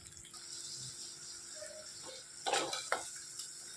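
Crab curry masala stirred in a pot with a utensil, soft scraping and clinks against the metal, building to a few louder scrapes and knocks near the end over a faint sizzle.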